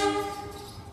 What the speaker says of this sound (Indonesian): Ada bunyi loncengnya ya tuh.